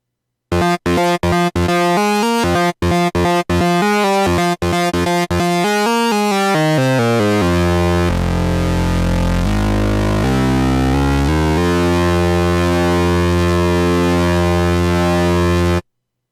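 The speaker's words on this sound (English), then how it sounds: "Let's try squares just to see if the MiniMoog does anything different with the square and the distortion." MiniMoog Model D synthesizer playing a distorted square wave, loud and buzzy, starting with a run of short staccato notes and then holding a long sustained drone whose pitch slides and shifts, with no voices.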